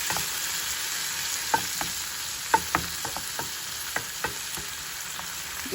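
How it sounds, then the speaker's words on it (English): Chopped tomatoes cook in a pan for red lentil daal, giving a soft steady sizzle with a few light clicks and taps from a utensil, and no speech. "So now we want to let the tomatoes cook."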